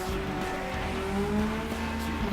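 A car sliding in FlatOut Ultimate Carnage, steady engine drone with a sustained tire squeal running throughout, loud and continuous with no talk.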